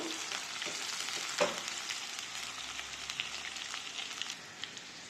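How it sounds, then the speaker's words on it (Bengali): Sliced onions sizzle in hot oil in a pan for a home-style mung dal, a steady close crackling hiss with scattered pops and a brief stir clatter near the start. "এখন দিয়ে দিচ্ছি পেঁয়াজ, পেঁয়াজকে হালকা বাদামি কালার হওয়া পর্যন্ত ভাজবো।"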